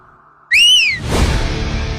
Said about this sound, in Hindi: सीटी क्यों बजा रहा है बे?